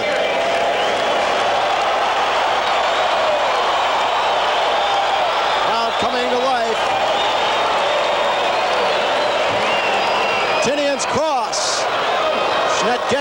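A huge crowd at a 1982 championship soccer match in the Pontiac Silverdome roars in a loud, continuous wash, with a commentator talking over it.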